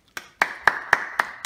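Hands clapping six times in a steady, even rhythm, each clap crisp and close, with a faint ringing tone sustained between the later claps.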